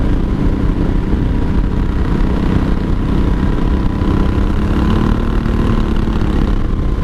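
A 1983 Honda Shadow VT750C V-twin motorcycle idles nearby with a steady, loud, even low rumble that holds constant throughout, with no revving and no voices.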